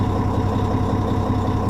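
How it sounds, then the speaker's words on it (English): A big D16 truck engine rumbles steadily at low revs, a deep continuous drone heard close and alone. "The D16 sounds a lot different than the smaller engines."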